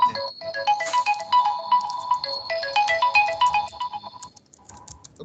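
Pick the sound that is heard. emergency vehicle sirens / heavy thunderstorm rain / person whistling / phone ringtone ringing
phone ringtone ringing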